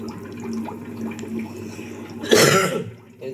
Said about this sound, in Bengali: আর একটু ঘোলা ভাব কাটানোর জন্য জলটা বের করছি